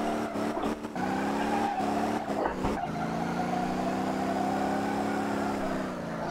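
A car drifts in the driving game Motor Town: Behind The Wheel, its engine droning steadily under a sustained tire squeal, with a few choppy gear-shift breaks early on, loud and continuous.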